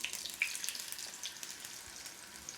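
A crunchy potato-filled taco fries in a pan, giving a soft, steady sizzle with small crackles and a brief scrape and clatter as it is flipped, fairly quiet and alone.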